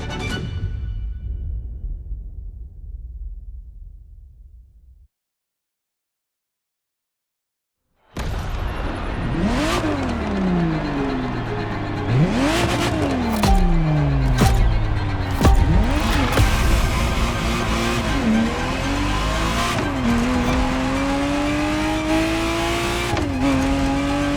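A Ferrari Testarossa engine in the racing game The Crew Motorfest roars loudly after a few seconds of silence, revving up and dropping through repeated gear changes, then holding a sustained high whine.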